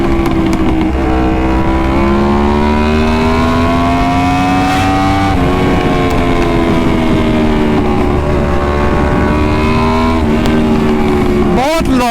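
A Yamaha YZF R1 sport motorcycle engine runs loud and close, holding a strong steady drone with slow pitch rises and dips, then a sharp rev swell at the end, with voices briefly under it.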